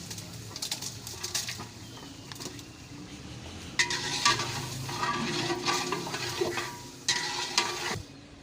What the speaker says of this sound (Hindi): चिकन को जो है अच्छे तरीके से हम भून लेंगे।